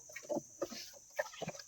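A mixed brood of twelve chicks and Peking ducklings peep and chirp softly up close while feeding, giving short irregular calls with quiet gaps between them.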